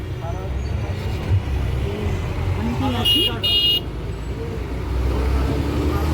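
A bus rolls along a road with its windows open, heard from a passenger seat inside as a steady low engine rumble and road noise with a brief horn toot, while a person talks over it.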